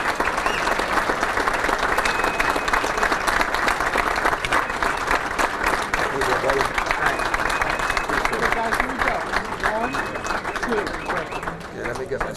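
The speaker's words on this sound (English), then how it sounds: "big round of applause for the man" A banquet audience at a Pennsylvania Sports Hall of Fame dinner gives a big round of applause for Eddie Burke. The clapping is loud, dense and sustained, with a faint voice underneath, and it tapers slightly toward the end.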